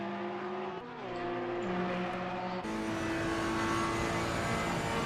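Ferrari GT3 race car engine in Assetto Corsa Competizione, heard from on board, roaring loud and steady with a gear shift near the start and rising revs, continuous throughout with no talk.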